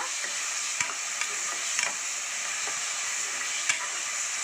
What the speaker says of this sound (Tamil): மசாலா வதங்கி வரட்டோமா